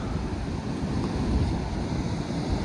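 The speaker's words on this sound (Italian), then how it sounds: "che onde oggi, ma che roba" Strong ocean waves crash on the Moroccan coast, a continuous heavy roar of surf mixed with wind buffeting, loud and steady with no voices.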